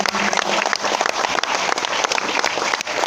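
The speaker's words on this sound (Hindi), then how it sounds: "जो फर्स्ट टाइम आए हैं इनके लिए एक बार जोरदार वाली ताली से" A seminar audience in Bhilwara, Rajasthan, clapping loudly for first-time attendees: dense, steady applause from a large crowd that fills the whole stretch without letting up.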